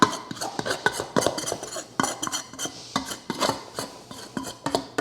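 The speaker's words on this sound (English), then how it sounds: "Get the old wok spatula." A metal wok spatula scrapes a stuck sourdough loaf out of a pot, giving a busy run of close, rasping scrapes and clinks in uneven bursts with no talking.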